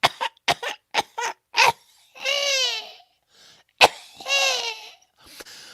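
A storyteller's voice imitates a character's loud coughing: a burst of sharp, rapid coughs followed by drawn-out wheezing, croaky groans, then another cough and groan, close and clear.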